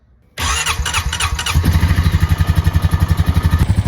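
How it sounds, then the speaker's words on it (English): A Honda Rancher 420 ATV engine cranks briefly, catches and settles into a loud, steady rhythmic idle, heard up close with no talking. "I'm going to run the engine."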